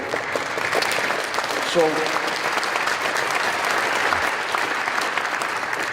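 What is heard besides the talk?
audience applause at lecture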